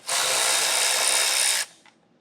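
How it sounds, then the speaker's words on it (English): A power driver fitted with a T30 Torx bit backs out a taillight screw on a 2024 Jeep Grand Cherokee L in one loud, steady high-pitched whir of about a second and a half. It stops abruptly and a faint click follows. "you're going to grab a T30 Torx bit to remove this screw"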